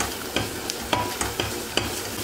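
A spoon stirs a heaping tablespoon of tomato paste frying in a pan for a dalyan köfte meal. Several distinct scraping strokes sound over a soft, steady sizzle, close up, with no talking.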